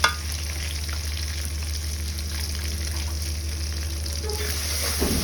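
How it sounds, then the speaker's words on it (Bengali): Onion paste, mustard paste, chili paste, salt and turmeric fry in hot oil for a rohu fish curry, a steady close sizzle with occasional stirring scrapes and no talking. "মশলাগুলো ভালোভাবে একটু কষিয়ে নেব"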